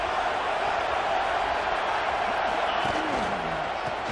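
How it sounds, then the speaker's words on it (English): A dense, steady roar from a large stadium crowd at a football game fills the whole stretch, loud and continuous without a break. "This crowd rising up, sensing that its defense needs some help."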